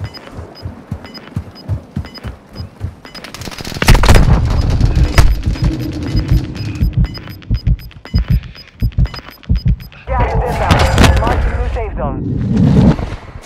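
Sniper rifle fire in Call of Duty Modern Warfare II, heard as heavy booming reports among dense in-game battle noise and rapid thuds, with a player talking over the action.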